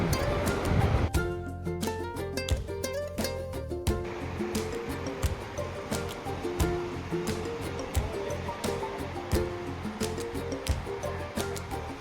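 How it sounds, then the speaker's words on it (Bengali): Sea waves at Mandarmani beach roll in with a steady, fairly loud surf roar that runs the whole way through, with a tonal background layered over it. "দিগন্ত বিস্তৃত সমুদ্র আর সমুদ্র"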